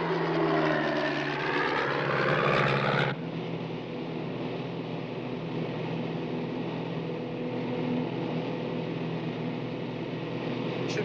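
Light private aircraft in flight after leaving an airfield in Surrey, its engine a steady, continuous drone throughout, loudest at the start with a slight drop after a few seconds, no voices.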